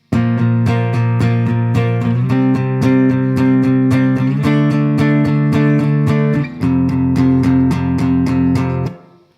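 Electric guitar plays the chorus progression of a song with the added D5 bar, steady eighth-note strums moving through several chord changes, loud and close with no talking.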